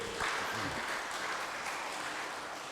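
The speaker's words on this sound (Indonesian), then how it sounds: "Tepuk tangan dulu" Audience applause at a church talk on elders' ministry, a steady broad wash of clapping from a large crowd that holds evenly throughout with no voices over it.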